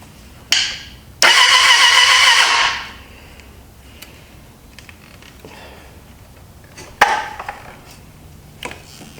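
A Suzuki GSF600 Bandit motorcycle engine cranks over on the starter in a loud burst of about a second and a half without firing, with shorter mechanical clicks and clatter before and after.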